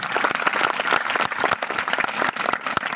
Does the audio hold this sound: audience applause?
yes